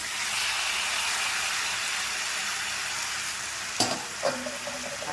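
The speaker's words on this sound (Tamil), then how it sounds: "வெங்காயம் இந்த அளவுக்கு வதங்கின உடனே தக்காளியை போட்டுக்கலாம்." Tomatoes go into a pan of onions already sautéing for a simple three-ingredient chutney, giving a steady, close, loud sizzle and hiss throughout with a couple of brief stirring knocks near the end; no one speaks.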